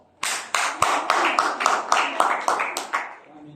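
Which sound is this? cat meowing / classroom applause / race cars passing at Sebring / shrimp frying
classroom applause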